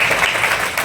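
Short burst of loud, dense clapping from an audience welcoming a guest at a one-day astronomy workshop, a continuous wash of many hands with no pauses.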